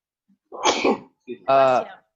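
A single sharp sneeze, preceded by a short sharp inhale, then a brief voiced sound afterward; close and fairly loud with silence around it.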